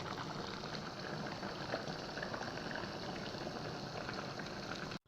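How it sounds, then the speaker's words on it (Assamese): Fish curry simmering in a pot gives off a steady, close bubbling and gurgling that runs evenly throughout, with no voices, and cuts off abruptly at the end. "আৰু এতিয়া মাছখিনি দিয়াৰ পিছত 7 মিনিটমান এনেদৰে উতলিব দিম।"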